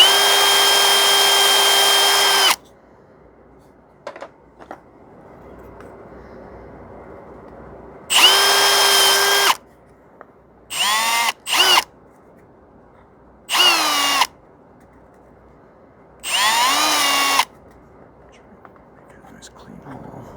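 A power drill boring a clean hole in an epoxy resin workpiece, several loud whining bursts of a few seconds each separated by quiet gaps, with soft whispered speech in between.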